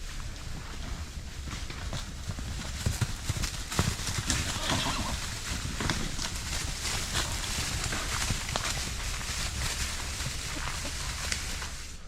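Several horses on a drought-hit homestead gallop round and round in a circle, a continuous thudding of hooves on ground with wind noise throughout, fairly close, plus an occasional whinny.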